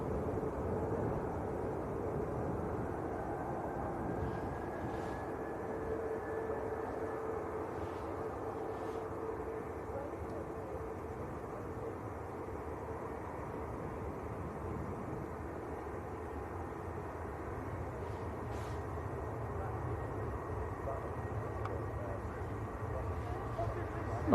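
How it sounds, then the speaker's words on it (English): An IndiGo Boeing Dreamliner departs Manchester Airport bound for Delhi, giving a steady, broad jet roar that holds for the whole stretch at moderate distance, with faint talk beneath it. "And then we've got the Indigo Dreamliner going out to Delhi."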